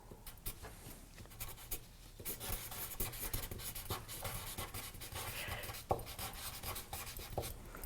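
A Sharpie marker scrawls across the surface of a painting in continuous close-up scratching strokes, with brief pauses and one sharp tap near the end; no talking.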